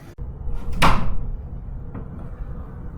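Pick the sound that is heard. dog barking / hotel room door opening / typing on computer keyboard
hotel room door opening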